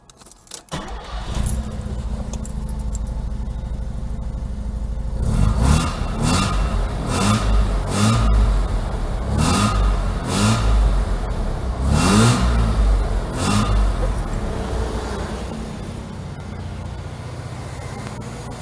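A 1985 car engine fitted with a new MSD Blaster 2 ignition coil cranks and catches, then settles into a steady, smooth idle, with several sharp revs blipping the throttle partway through.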